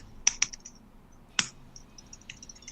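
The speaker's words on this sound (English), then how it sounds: "I have a keyboard here. I'm doing all my key commands." A computer keyboard is tapped in short bursts of key commands: a quick pair of close, crisp clicks, a single sharp keystroke, then a few fainter taps, with no talk.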